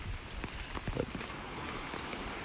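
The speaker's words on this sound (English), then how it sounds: "It's supposed to be raining all day long." Light rain patters on a beach in North Naples, Florida on a damp morning, a faint, steady hiss with a few soft drop taps and no voices.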